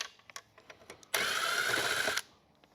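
A power drill whirs in one steady burst of about a second while backing out Phillips screws during an XR7 dash cluster disassembly, preceded by a few light clicks and taps, close and moderately loud.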